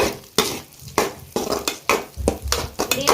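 Egg is stirred in a bowl with quick, rhythmic strokes. There are about seven sharp scraping clacks, close and clear, in uneven succession with no voices.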